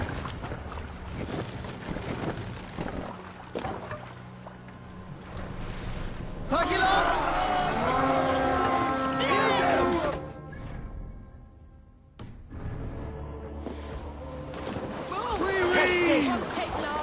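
Sailing a longship in the video game Assassin's Creed Valhalla: a wind and water wash rolls under the boat throughout, with voices talking and calling out over the sea ambience.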